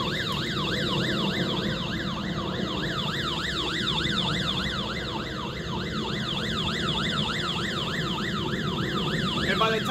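A Sunglife solar hand-crank weather radio sounds its SOS siren alarm at night, a loud, steady electronic wail sweeping rapidly up and down in repeated cycles over a constant background hiss.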